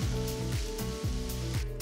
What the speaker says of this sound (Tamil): அதே கடாயில் 3 பெரிய வெங்காயம் பொடியாக நறுக்கினதை சேர்த்து வதக்குங்க.